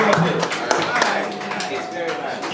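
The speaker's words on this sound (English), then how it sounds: "Alright, so I'll give him a round of applause." An audience gives a round of applause at a live writing-session show, a dense patter of many hands running steadily throughout, mixed with voices talking over it.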